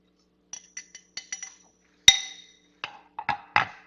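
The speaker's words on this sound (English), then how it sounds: "I do like to stir it around before spooning it" A spoon stirs salad dressing in a glass, clinking against the sides in a quick irregular run of light, close taps, then a few sharper, louder clinks, with no talking.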